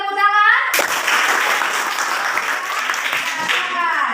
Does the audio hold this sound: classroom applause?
yes